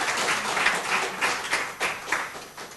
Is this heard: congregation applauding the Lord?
yes